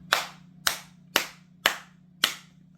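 Five sharp hand claps, evenly spaced about half a second apart, ring out close and loud, each ending in a short decay against a steady low hum.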